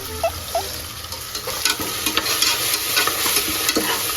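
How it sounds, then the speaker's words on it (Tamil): Ginger garlic paste sizzles loudly in hot oil for a chicken biryani, a dense close crackle broken by quick stirring scrapes and taps, with no talking. "எண்ணெய் காஞ்சதுக்கு அப்புறம் இந்த மாதிரி இஞ்சி பூண்டு பேஸ்ட் வந்து நல்லா போட்டீங்கன்னா வச்சுக்கோங்க, அடியில் ஒட்டவே ஒட்டாது."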